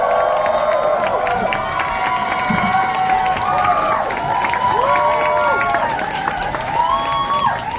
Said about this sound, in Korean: 뜨거운 박수 부탁드려요.